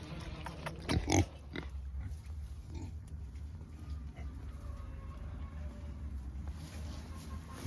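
Breeder sows on a homestead grunt faintly and continuously at a distance, with a louder burst near the start over steady outdoor background noise.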